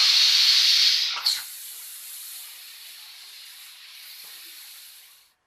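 A loud burst of steam hisses out of a pressure cooker as its whistle is removed, then drops to a steady softer hiss that fades away.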